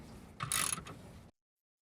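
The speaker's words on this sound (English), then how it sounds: "you're going to remove this cover. It's a 12 millimeter bolt." A ratchet clicks briefly and faintly while a 12 mm bolt is loosened from the underbody cover of a Hyundai Tucson during an oil change, a short, close burst of mechanical ticking that stops suddenly.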